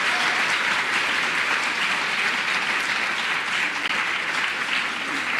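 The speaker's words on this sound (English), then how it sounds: "Let's give them a clap." A crowd claps for the event's organisers at a Kenyan gathering, a thick, even roar of applause that stays loud and unbroken throughout.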